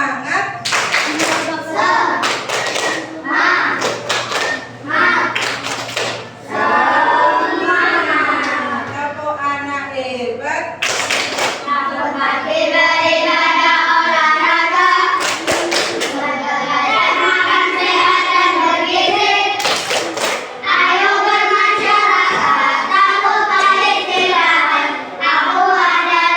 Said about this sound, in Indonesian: biar semangat pada pagi hari ini kita tepuk semangat dulu.